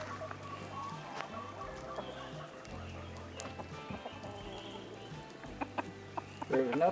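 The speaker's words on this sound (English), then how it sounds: "There's enough chickens here for both of y'all." Homestead chickens cluck softly in the background, faint scattered calls under low ambient noise, with a brief louder cluck near the end.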